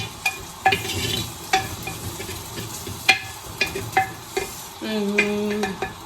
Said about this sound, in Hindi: मैं अभी जीरा अलग से भून के डाल देती हूँ